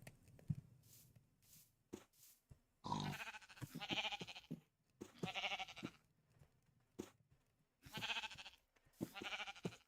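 Sheep in the video game Aetherial Airships bleating in short repeated calls, several bursts in a row with brief pauses, alongside soft game clicks and shuffling.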